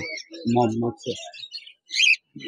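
Lovebirds and cockatiels chirp from cages at a busy bird market, with bright, scattered tweets and short calls close by, mixed in with people talking.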